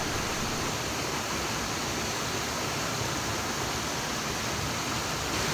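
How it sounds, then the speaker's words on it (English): A small waterfall in a gorge, a steady broadband rush of falling water, even and moderately quiet, with no voices. "see this little waterfall"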